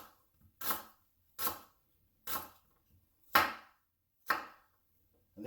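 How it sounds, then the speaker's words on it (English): A knife cuts ginger into thin julienne slivers on a board, five sharp, evenly spaced chops ringing out close and clear with short silences between them. "I'm just going to make this in little slivers"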